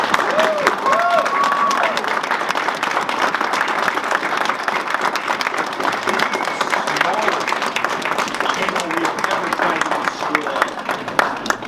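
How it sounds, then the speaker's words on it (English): Audience applause fills a Bangor convention Q&A hall, steady and dense for about twelve seconds, with scattered cheers and crowd voices mixed in as guests Jason Narvy, Paul Schrier and David Fielding are welcomed. "Welcome them in with a nice Bangor round of applause."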